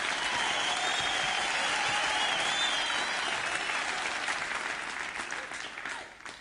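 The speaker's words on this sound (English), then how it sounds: "Yes, we got the studio audience again, as you can hear." Studio audience applause fills the room as a dense, steady wash of clapping that holds loudly for several seconds, then gradually thins and fades toward the end.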